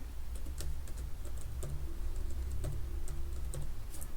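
Fingers type a Linux terminal command on a computer keyboard, a quick irregular run of soft close key clicks with no voices.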